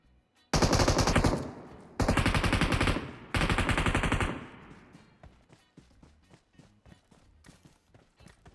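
Bursts of rapid automatic gunfire in a video game aimed at a bot, three loud sustained volleys in quick succession, followed by quieter scattered taps and shots.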